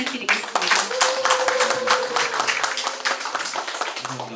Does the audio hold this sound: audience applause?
yes